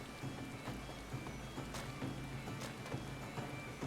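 Steady rain in Final Fantasy XIV, a constant soft patter with a few slightly louder drips, no voices present.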